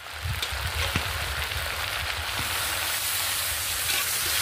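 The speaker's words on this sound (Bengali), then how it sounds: "এবার আমি এর মধ্যে দিয়ে দেবো জল।" Water poured onto fried potatoes in a pan, bursting into a dense, loud crackling sizzle with sharp pops early that settles into a steady hiss.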